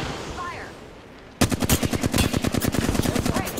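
Rapid automatic gunfire in Apex Legends erupts after a quiet opening, a dense run of close, loud shots firing steadily to the end.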